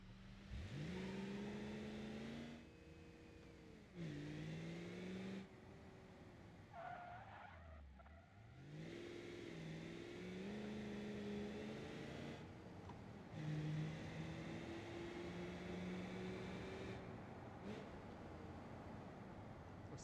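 A car engine in the driving game BeamNG revs loudly and repeatedly, climbing and dropping in pitch through gear changes, with tire squeal and skidding as it drives, some passes echoing as if through tunnels.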